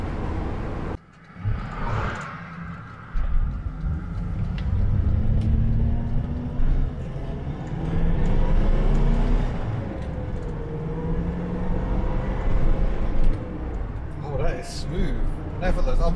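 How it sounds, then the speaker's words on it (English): Rover SD1 car driving on a road at about quarter throttle, with a steady engine drone and rumbling road noise continuing throughout, someone talking over it. "I'm still on about quarter throttle here, chasing this P6 down the road."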